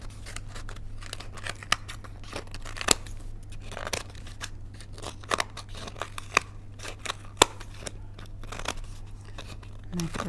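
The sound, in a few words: scissors trimming excess fabric from fabric mâché bowl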